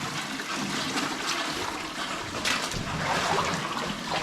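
Running water flows through a low, flooded tunnel of an old lead and zinc mine, a continuous close rushing and trickling that carries on steadily with no voices.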